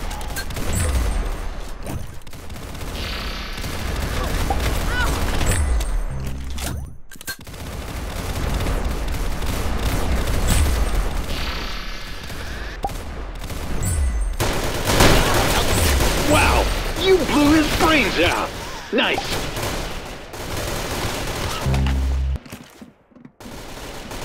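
Sustained automatic gunfire from a PC shooter video game, dense rapid bursts filling most of the stretch with brief gaps, loud and close, with game effects layered in and talk over it.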